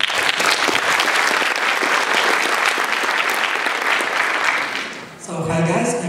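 An audience at a PyCon PL 2016 conference lightning talk session gives loud, dense applause for about five seconds, then it drops away and a voice begins speaking.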